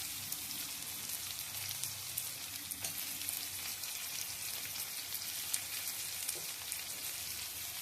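Tomatoes and onions sizzle together in a pan for a country rooster curry: a steady, dense crackling hiss with small pops throughout, fairly close, with no voices.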